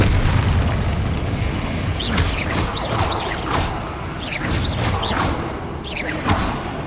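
In Hogwarts Legacy, a Confringo fire spell explodes in a string of loud, booming blasts. Several bursts arrive in quick succession over rumbling game ambience.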